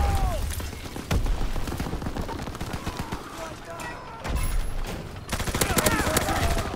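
Sustained gunfire in the World War II shooter Call of Duty: WWII, with dense rapid bursts and heavy low booms running throughout, briefly easing near the middle before resuming, while a voice talks over the battle.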